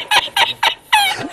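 Racing pigeons in a dirty loft give four short, close calls in quick succession, the last one longer, with no talking.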